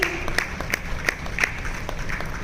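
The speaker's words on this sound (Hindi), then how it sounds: "तालियों की गड़गड़ाहट चलनी ही चाहिए" Audience applause at a media conference in Mount Abu, rhythmic clapping at a moderate level with regular sharp hand strikes.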